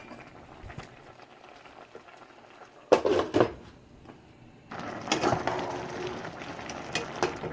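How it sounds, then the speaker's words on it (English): A covered pot of stew peas simmering, with a soft bubbling patter and a few clattering knocks, then a louder, steadier bubbling in the later part. "I'm gonna cover, let it simmer for a little bit"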